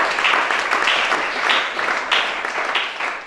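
Members of a church congregation at a deliverance service clap together in loud, sustained applause with a faintly rhythmic swell, many hands close by, easing slightly toward the end.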